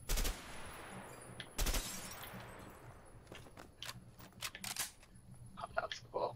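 Gunshots fired at bottle targets in the game A Way Out, with a few sharp, loud cracks spaced apart and then a quicker run of fainter shots and small clinks, heard alone without talk.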